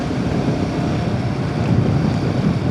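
Sea surf on the monsoon coast near Gokarna, a steady broadband wash of waves mixed with wind noise on the microphone, continuous and moderately loud with no speech.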